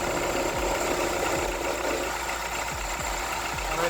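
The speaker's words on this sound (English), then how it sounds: "So both fans are working now." Electric A/C condenser fans running on a Skoda Fabia Mk1, a constant whirring hum with a steady broadband whoosh, close and unchanging, with a few faint low thumps underneath.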